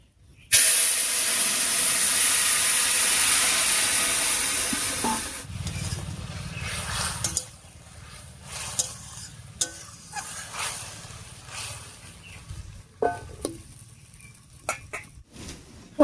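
Cooked curry tipped into hot mustard oil tempered with black cumin and dried red chillies, giving a loud, steady sizzle and hiss that fades after a few seconds into quieter stirring clinks and spits.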